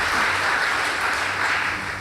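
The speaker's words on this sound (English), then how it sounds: "Please give them a round of applause." An audience at a girls' high school debate between Kisau Girls and Mwaani Girls applauds with dense, sustained clapping, loud and continuous throughout before easing slightly at the end.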